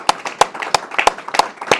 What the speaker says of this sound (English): I'd just like to give you a round of applause to thank every single provider in this room